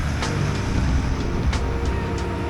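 Old farm vehicles roll past in a veteran machinery parade on a farm in Finland, a steady close engine and road rumble with a few sharp clicks and rattles.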